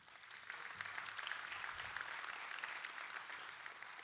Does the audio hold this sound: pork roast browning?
no